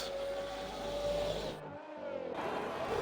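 A Formula 1 car in an Xbox One racing game at the British Grand Prix brakes hard for a fast right-hander. Its loud, close engine whine drops in pitch through quick downshifts, with a brief cut before the revs pick up again.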